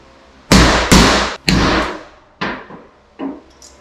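A hammer knocking a hydraulic hand brake part on a budget drift car back into place: five sharp metallic blows, the first two close together and loud, the last ones slower and softer, with no talk.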